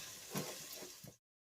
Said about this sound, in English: We're going to add the chopped garlic. And then give that another wee gentle fry